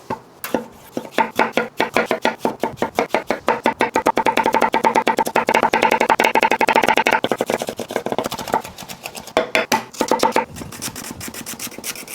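Knife chopping Roma tomato, celery, green onion, garlic and cilantro on a board for a basic salsa, a fast steady run of close, crisp cuts with brief pauses, no talking.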